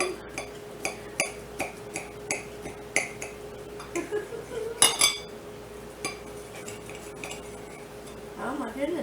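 A knife cuts through a warm, cheesy zucchini, mushroom and onion panini, giving a run of regular, crisp clicks and taps on a board with a louder clatter in the middle. No one speaks.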